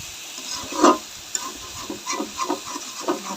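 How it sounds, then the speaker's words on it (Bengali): Rice is sautéed for biryani in a pan with a low sizzle and a run of close, rhythmic scraping stirs from a spoon, one stronger stroke near the start. "চালটা ভালো করে কষাই নিব।"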